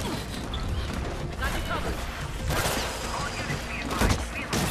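Loud bursts of automated turret gunfire in the game Mirror's Edge Catalyst, rapid volleys flaring in clusters over a dense wash of action noise.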